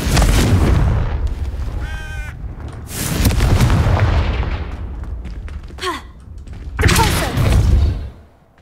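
Confringo fire spell blasts in the game Hogwarts Legacy go off as several deep, booming explosions, loud and close, spaced a second or two apart with crackling tails.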